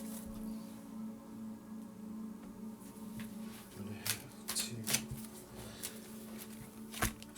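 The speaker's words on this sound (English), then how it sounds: "Just gonna shuffle these things around." Tarot cards shuffled by hand at a collective reading, a soft papery rustle running throughout with a few sharper riffling bursts toward the end, close and fairly quiet with no talking.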